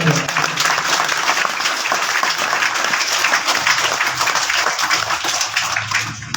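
Applause from the audience at a school's annual results ceremony in Mandi Bahauddin district, Pakistan: a dense, steady wash of many hands clapping at once, loud and continuous from start to finish.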